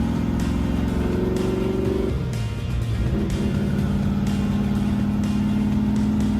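A Ford Mustang's engine drones steadily up close with a shift in pitch partway through as the car drives, a rough, continuous motor sound with no voices.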